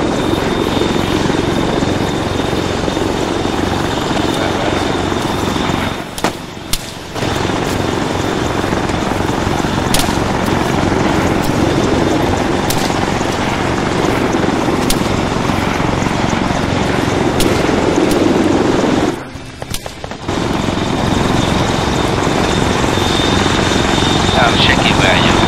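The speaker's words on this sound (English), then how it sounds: "There's a chopper just crash landed here." A helicopter in the ArmA 3 military game, its rotor and engine drone loud and steady for the whole stretch, with two brief dips where the sound cuts out, and voices speaking over it at times.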